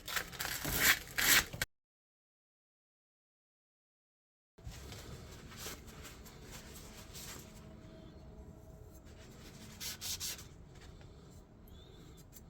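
Rusty buildup on the sole of a wood plane is rubbed off with side-to-side strokes, giving quiet scratchy scraping in short bursts, followed by a fully silent gap and then a soft, continuous rubbing.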